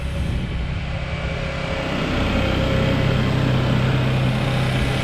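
A B8 Audi S4 3.0T engine with a cold air intake idles steadily nearby, a constant loud rumbling drone with a faint hum, unchanging throughout.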